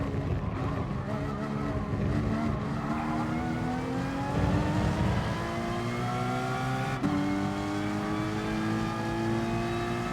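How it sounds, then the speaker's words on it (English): A Lamborghini race car in GT Sport revs hard and holds a high, steady engine whine. The pitch climbs through the gears with brief shifts and a faint tire squeal, loud and continuous with no voice. "Look how fast that Lamborghini is."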